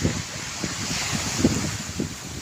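Ocean surf washes continuously under a steady rush of wind by an island shore, with soft swells of breaking waves and no voices.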